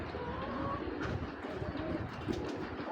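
A pair of blue python racing pigeons coos softly at close range, low rolling calls over a steady background hum, with occasional small rustles.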